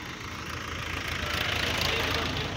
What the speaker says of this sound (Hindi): माइनक्राफ्ट में ट्रैक्टर